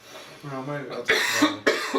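A cough bursts out twice in quick succession among casual conversation, the sharp, noisy blasts landing close to the mic between spoken remarks.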